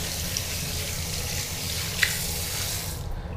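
Running tap water at a public restroom sink while hands are washed and lathered, a steady close splashing hiss that cuts off near the end.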